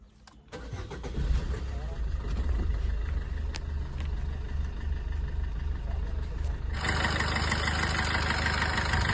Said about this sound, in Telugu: ఇంజన్ కండిషన్ చూడండి ఎలా ఉందో.